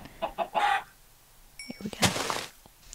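Short, close clucks from a chicken in Minecraft, a few quick bursts followed by a rougher squawk, heard alone with no talk over them.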